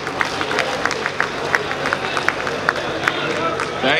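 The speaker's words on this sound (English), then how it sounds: "Please clap for them also." An outdoor crowd at a birthday celebration in Entebbe claps for the guards, scattered sharp claps over a steady noisy murmur, with voices talking throughout.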